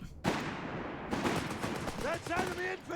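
MG42 machine gun firing in Company of Heroes 3, a sharp burst opening into dense rapid fire, with other battle noise and a voice talking over it.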